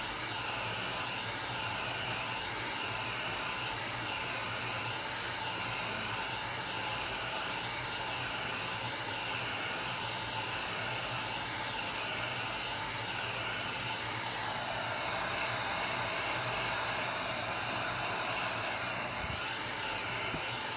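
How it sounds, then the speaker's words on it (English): Heat gun blowing steadily over alcohol ink with glow powder on a custom cup, a constant close whooshing airflow hum that runs unbroken throughout with no talk. "now we just run the heat gun over it until we start"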